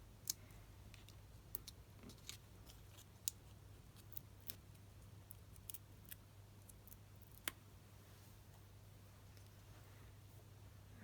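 Scissors snip sharp, sparse cuts through paper cardstock during a papercraft card project, a handful of quiet clicks spread over a low steady hum.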